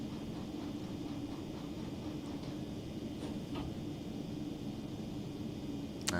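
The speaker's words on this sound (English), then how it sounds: "It's a nice train, isn't it, the 103?" A DB Class 103 electric locomotive running on the Linke Rheinstrecke in Train Sim World 3, heard as a steady rolling hum and broadband rumble with a few faint clicks, alone for six seconds.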